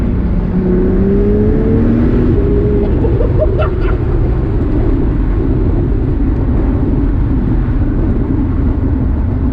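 A loud Morgan Supersport sports car engine roars close up, its pitch climbing briefly through gear changes up to 8th before settling into a heavy, steady drone.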